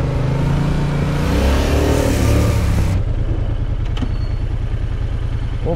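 Car engine accelerating hard through first and second gear during a slalom driving exercise, loud and continuous, revs climbing then dropping at a gear change about halfway and building again.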